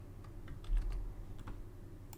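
Typing a nickname on a computer keyboard, a few quiet key taps close by over a low steady hum.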